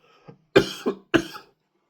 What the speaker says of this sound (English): Coughing fit, apologise.